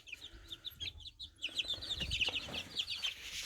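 Many baby chickens peeping in high, rapid chirps close by, a busy chorus of chick calls with soft rustling beneath.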